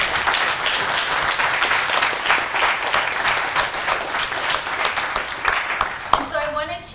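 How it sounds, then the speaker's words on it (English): Audience at an academic talk on Indigenous governance gives a warm round of applause, dense steady clapping that tapers near the end as a voice begins speaking. "why don't we also give a warm round of applause to her"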